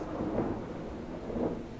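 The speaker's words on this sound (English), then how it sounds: "hope the storm doesn't knock out my power." Low, rolling thunder from a storm rumbles steadily and swells twice at a distance. There is no talk, and rain may be mixed into the dull background.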